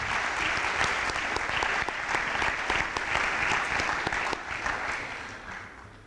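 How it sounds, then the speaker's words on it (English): An audience at a university event gives sustained applause, a dense, steady roar of many hands clapping throughout that tapers off slightly toward the end. "Let's give them a big round of applause."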